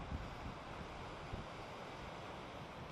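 Stream water running down a granite slope in the Sierra Nevada's Kings Canyon, a steady broadband rush with faint wind noise, continuous and fairly distant, no voices.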